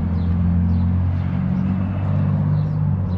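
A car creeps forward at a car cruise, giving a steady, low engine rumble that stays even and close throughout.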